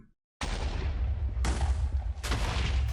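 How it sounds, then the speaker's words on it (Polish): Three heavy booming blasts from a Minecraft Explode mod detonation, each a sudden broadband crack rolling into a long rumbling tail, closely spaced and loud with no talk. "Średni wybuch jeszcze jako tako."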